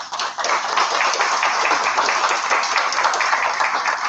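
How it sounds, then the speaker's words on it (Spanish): Audience applause at a legal seminar, a sustained wash of clapping from a hall crowd, fairly loud and steady throughout with no talk over it. "Para ellos quiero pedir un fuerte voto de aplauso."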